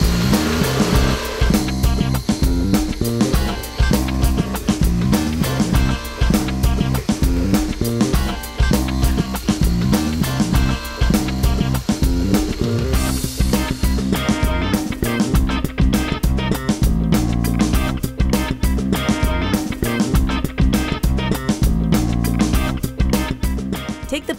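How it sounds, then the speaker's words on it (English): An electric mixer beats egg whites and sugar toward stiff-peak meringue for a key lime pie, a steady loud whirring drone with a rhythmic rattling texture that runs continuously. "start adding in the sugar a little at a time and continue beating until it forms stiff peaks"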